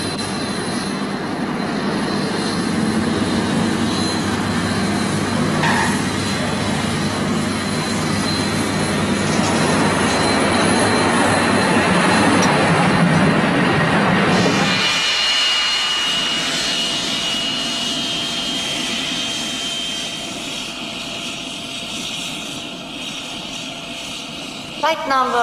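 Passenger airliner on its London to Bergen flight, a loud sustained jet engine roar that swells and then drops away sharply partway through, leaving a quieter cabin hum with a voice speaking over it.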